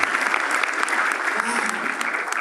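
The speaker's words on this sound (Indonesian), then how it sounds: "Tepuk tangan dulu yang paling meriah buat Tuhan." A church congregation claps during an Easter youth service, a dense, continuous burst of applause filling the room at close range, with faint voices mixed in.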